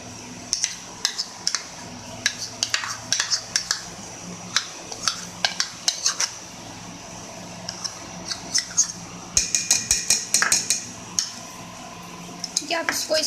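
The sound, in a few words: mixing mayonnaise and vegetables in a bowl with a spoon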